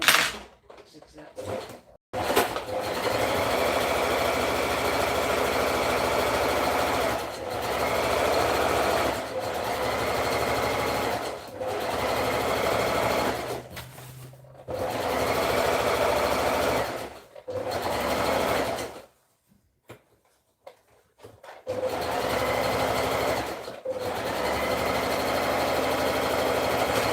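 Zigzag stitching on a sewing machine while making a dress: about seven loud, close bursts of steady motor whirring, separated by short pauses, with occasional speech between runs.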